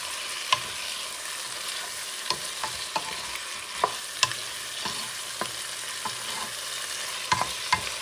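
Garlic fries and sizzles in a pot for Puerto Rican beef tripe soup, a steady hiss under irregular clinks and scrapes of a utensil stirring every second or so, heard close and without voices.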